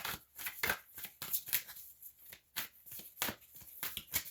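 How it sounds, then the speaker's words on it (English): A deck of tarot cards is shuffled loosely by hand, a steady run of close, papery riffles and slides with no talking. "I'm shuffling these cards"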